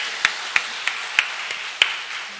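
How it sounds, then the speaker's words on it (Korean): A handful of sharp, separate hand claps ring out in a church worship service, about five spaced unevenly over a steady hiss of room noise, rather than a full sustained round from the congregation. "하나님께 영광의 박수"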